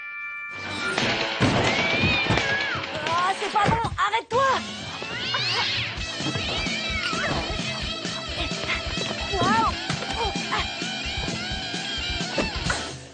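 A cat meows and caterwauls loudly and repeatedly over gentle background music, with a voice briefly speaking over it.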